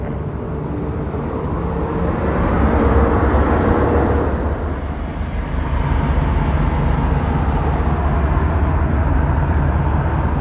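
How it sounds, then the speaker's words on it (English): Tourist train rolling through Cripple Creek, Colorado, a steady low rumble and broad rushing noise holding loud and close for about ten seconds, with a slight swell midway. "There's the train."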